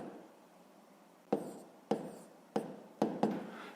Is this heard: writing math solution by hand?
yes